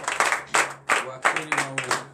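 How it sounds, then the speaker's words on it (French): A congregation at a Saturday morning prayer service in Comè, Benin claps in quick, rhythmic bursts of acclamation, the claps close and fairly loud, with voices mixed in among them. "Donnez l'acclamation à l'Éternel"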